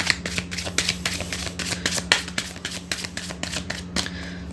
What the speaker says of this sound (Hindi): जब तक हम कार्ड शफल कर रहे हैं